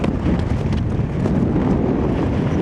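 Strong wind buffets the microphone high on a Lake District fell near Helvellyn and Sheffield Pike, producing a loud, continuous, gusting roar with no talking.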